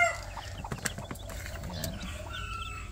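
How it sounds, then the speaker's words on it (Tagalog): Brooding hens cluck in a small backyard poultry coop, with soft, irregular clucks and short calls layered over a steady low murmur of other birds, fairly close and without voices. "Yan yung pasisiw natin."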